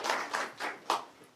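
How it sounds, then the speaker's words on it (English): A short burst of hand clapping at a Board of Education meeting, four distinct swells in quick succession, close by and moderately loud. "If we could give them a round of applause and appreciation at this time."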